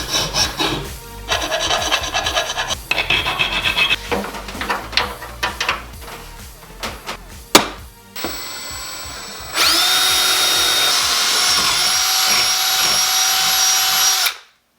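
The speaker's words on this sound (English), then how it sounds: "we're gonna drill some 3/16 inch holes" Drill boring 3/16 inch holes in aluminum held in a vise on a jon boat restoration, first irregular grinding and scraping, then a loud sustained whine that runs steadily to the end.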